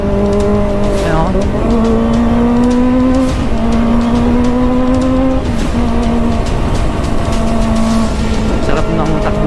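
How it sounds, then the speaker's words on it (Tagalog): A motorcycle cruising steadily on a smooth paved road, its engine holding a loud, even drone up close with slight pitch shifts as speed changes, over constant wind rush. "Smooth na smooth yung takbo ng motor, you know?"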